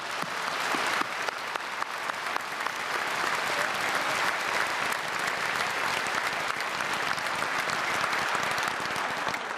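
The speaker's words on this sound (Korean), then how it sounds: "네, 하나님께 영광의 박수 올려드리겠습니다." A church congregation claps together during a 2019 Myungsung Church special March dawn service, a dense, steady wall of applause that holds at an even level throughout with no voices.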